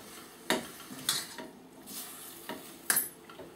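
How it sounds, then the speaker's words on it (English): A utensil stirs tomato puree into a cooking sauce in a pot, producing several distinct scraping knocks against the pan at irregular intervals over a soft simmering sizzle, fairly close. "Just stir the tomato puree in first."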